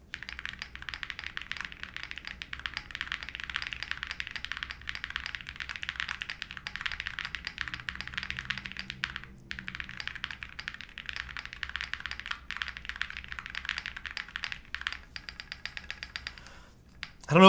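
Fast continuous typing on a Percent Studio Trio mechanical keyboard with a PBT spacebar, dense soft clacky keystrokes close up, a brief pause midway, no talking.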